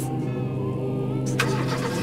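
A car engine in the game Lucius starts and settles into a steady, loud running hum that fills the whole stretch, with a brief burst of added noise partway through.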